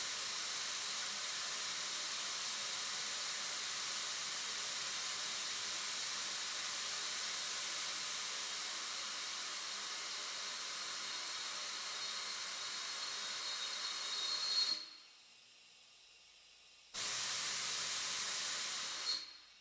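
Pressurized steam hisses loudly and steadily through a partially open pressure relief valve, cutting off abruptly to silence for about two seconds before the hiss resumes.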